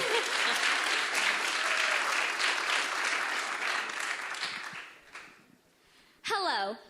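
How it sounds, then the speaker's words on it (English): A crowd applauds a student pitch team at a business idea competition, with sustained, loud clapping that thins out before a voice begins speaking at the end. "Round of applause"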